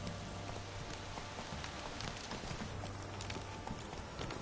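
Hooves of Roach, a horse in The Witcher 3, clip-clop in a steady trot under a constant outdoor wash, moderately loud and continuous with no talking.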